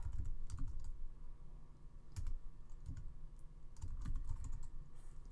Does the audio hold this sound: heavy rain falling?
no